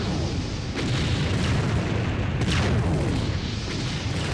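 Artillery explosions from the real-time strategy game Empire Earth, a futuristic 2035 Russian campaign: continuous loud rumbling booms with a couple of sharper blasts over dense battle noise, no talk.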